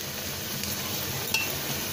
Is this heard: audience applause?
no